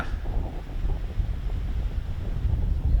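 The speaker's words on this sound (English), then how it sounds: "You can see the wind has picked up quite a bit." Strong gusty wind blowing outdoors across an open disc golf course, a steady low roar buffeting the microphone throughout, loud and close, with no talking.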